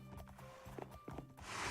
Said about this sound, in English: I already moved some of the skeleton horses